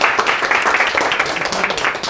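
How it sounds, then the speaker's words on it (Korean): Audience applause at a Korean student leadership forum, a short burst of loud, dense clapping filling the space with no voices. "우리 큰 박수 부탁드리겠습니다"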